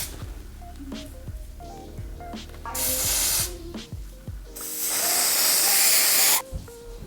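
Two long hissing bursts from a spray can misting a braided full lace wig, loud and close over soft background music.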